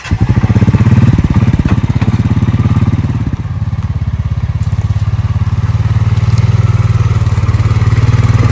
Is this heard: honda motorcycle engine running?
yes